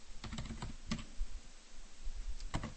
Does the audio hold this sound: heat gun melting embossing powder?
no